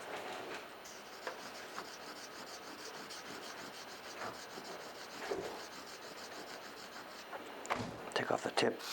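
A blade is worked across a natural sharpening stone in a steady, soft, close rasping rub that continues throughout, with a few louder scraping strokes near the end.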